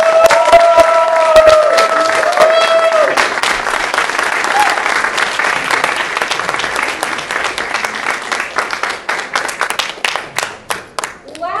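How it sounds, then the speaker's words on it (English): Applause and cheering from the crowd at a kickoff event for a New York City organizers' school: thick, loud clapping with a few raised voices near the start, thinning into scattered claps toward the end. "So please, a round of applause for all of you."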